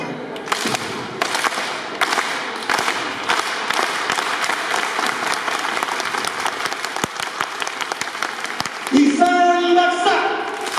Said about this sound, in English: And I say, Dalawa Baksak, clap twice. And then Tatlo Baksak, and you clap 3 times.